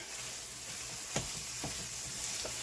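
Steady frying sizzle of ground meat in a pan with a few scraping stir strokes, close up and alone with no talking.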